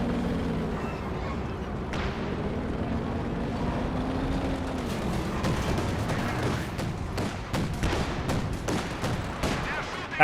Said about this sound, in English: Pack howitzer firing away.